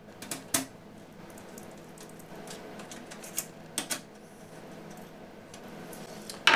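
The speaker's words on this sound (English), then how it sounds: "So I'll turn those over and use my Torx bit." Small mechanical clicks and ratcheting ticks from a Torx T15 bit unscrewing screws on an HP MediaSmart Server EX470, a few sharper taps scattered over a steady low background hum, close and fairly quiet.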